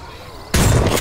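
A shotgun blast in the zombie survival game 7 Days To Die, one loud, close boom that starts abruptly after a quiet moment and holds a sustained roar to the end.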